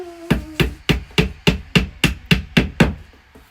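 A child hammers nails into an office desk being assembled at home. About ten sharp, evenly spaced knocks ring out close and loud, with a short tonal hum at the start and a softer last tap.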